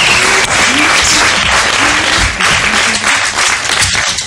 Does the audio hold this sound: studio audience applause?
yes